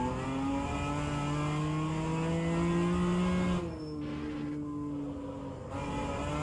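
A racing car engine in the rFactor 2 racing game drones at high revs, the pitch climbing steadily before a sharp drop as it shifts gear, then rising again.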